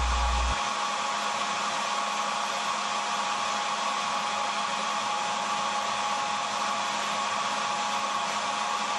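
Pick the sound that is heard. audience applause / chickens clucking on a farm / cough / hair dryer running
hair dryer running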